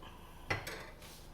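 A bowl set down and handled at a kitchen sink, one sharp clink followed by a couple of softer knocks and a brief rinse of water, fairly quiet, with no talking.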